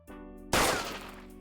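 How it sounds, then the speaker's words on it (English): Video game gunfire goes off as one loud, sharp blast that then rings out and fades over a steady humming backdrop. "I'll keep you up with the sounds of my gunfire."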